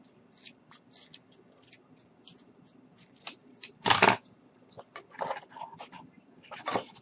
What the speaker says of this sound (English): I think I'll use my scissors for that part